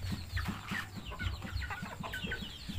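A group of young chickens, including about a dozen young roosters, cluck and chirp in repeated short calls, a busy flock of chicks and cockerels heard at moderate distance with no talking.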